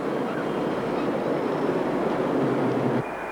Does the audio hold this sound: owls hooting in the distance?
no